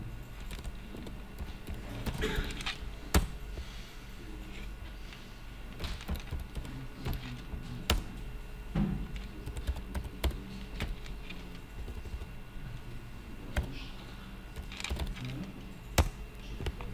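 Keys on a computer keyboard clack in quick irregular bursts with pauses between them, close and moderately quiet, over a low room hum.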